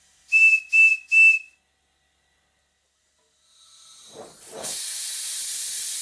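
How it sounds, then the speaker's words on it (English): Three short, shrill toots of a model steam locomotive's whistle at about 30 pounds per square inch, then a pause before a rising hiss of escaping steam that continues steadily. "as you can hear from the whistle"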